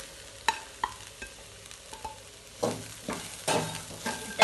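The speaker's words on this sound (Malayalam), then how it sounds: "അത് നന്നായി പച്ചമണം മാറണ വരെ വഴറ്റി കൊടുക്കണം കേട്ടോ." Spice powders for garlic pickle are sautéed in a pan and stirred, with a steady low sizzle under repeated scraping strokes that grow busier and louder toward the end, close up and with no one talking.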